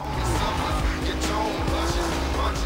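A racing car, a Mitsubishi Eclipse, driving in the video game Need for Speed Most Wanted, with its engine droning steadily and tires squealing, heard close and loud throughout.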